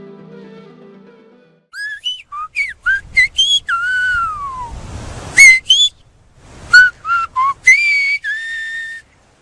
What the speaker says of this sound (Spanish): o por parte del silbo-gomero, idioma creado por los guanches, los nativos de las Islas Canarias para comunicarse entre ellos